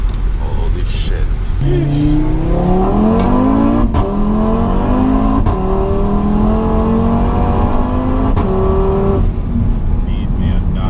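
A Daza car's engine revs and pulls hard on a hot day, its rising whine climbing through several gears with brief shift breaks, loud and close from inside the car.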